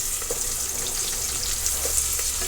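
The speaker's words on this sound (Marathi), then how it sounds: "कांदा आपला भाजत आहे" A quartered onion frying in hot oil gives a steady, dense hiss that holds evenly throughout, close and fairly loud, with a few faint pops and no voices.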